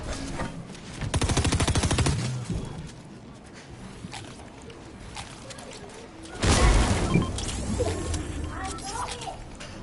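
Fortnite gunfire comes in two bursts of rapid automatic shots, one early and one later, with quieter game noise between them and people talking over it.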